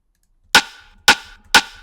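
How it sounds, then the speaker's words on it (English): Three sharp, dry rim hits from a bass music drum beat, short like a tight snare, evenly spaced and loud with quick decaying tails, nothing else playing. "And then we have another rim. It's like a short snare."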